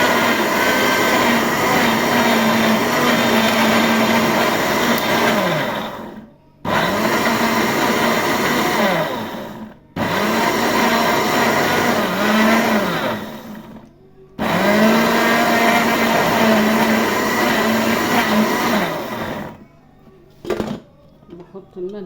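A close, loud electric blender whirs through a yogurt marinade in several long runs separated by brief stops, its motor pitch sagging and recovering as the mixture thickens, with someone talking over it.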